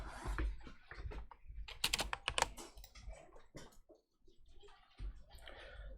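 Keystrokes on a computer keyboard while CSS position values are entered, a run of quick clicks and taps at close range, with a short quiet gap before more typing resumes.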